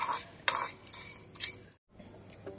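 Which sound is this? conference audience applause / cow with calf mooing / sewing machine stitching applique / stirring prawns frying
stirring prawns frying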